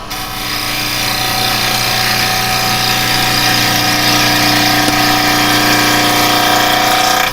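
A wood lathe turns a bowl blank under a carbide chisel, giving a loud, steady whirring hum with a gritty cutting rasp that stays constant throughout, with a single brief click partway through.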